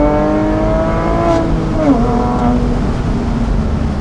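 Porsche Boxster S engine revving loud and close with steady harmonic drone, its pitch dipping and rising as the throttle changes.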